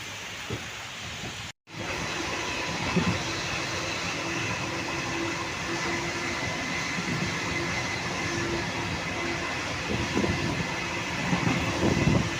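An express passenger train in heavy rain rumbles and rattles steadily close by, a continuous loud roar of wheels on track with no talking.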